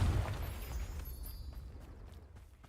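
Fiery spell explosion in Hogwarts Legacy: a loud low burst at the start that rumbles and fades over a couple of seconds, with faint crackles near the end.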